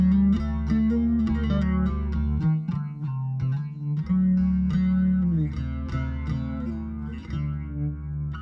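A bass guitar through a flanger effect pedal plays a melodic line with a swirling, sweeping modulation over sustained low notes, loud and continuous throughout with no voices.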